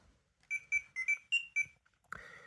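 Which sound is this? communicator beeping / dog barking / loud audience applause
communicator beeping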